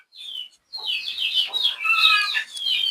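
Local indigenous chickens on a poultry farm cluck and cackle in quick, bright bursts, several birds close by, with no talk over them.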